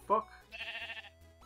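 A sheep bleats once, briefly, in the video game Minecraft, followed by a longer electronic tone of game audio.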